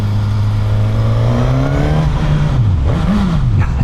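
Suzuki GSX-S 1000 motorcycle engine revs up from a low idle, pitch climbing then rising and falling through quick throttle blips, loud and close with no voices.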